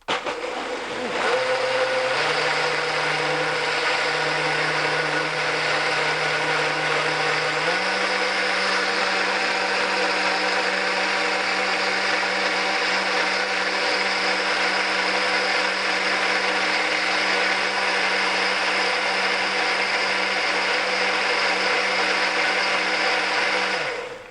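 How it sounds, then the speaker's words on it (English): A blender runs loudly and steadily making cashew milk, its motor whir shifting up in pitch partway through and holding until it cuts off. "Turn the blender on again."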